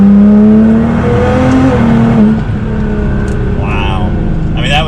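A Nissan GT-R in race mode accelerates hard from about 30 to 80, its engine note loud and close, climbing through rising whines with a brief dip at a gear change, while someone talks over it.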